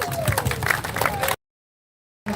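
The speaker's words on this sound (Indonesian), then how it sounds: "tepuk tangan lagi dong" Audience at a political rally clapping and cheering, a busy burst of crowd applause that cuts off abruptly into silence before resuming briefly.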